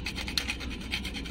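A tool scratches and scuffs the surface of a car's oil pan to roughen it, making quick repeated rasping strokes at close range.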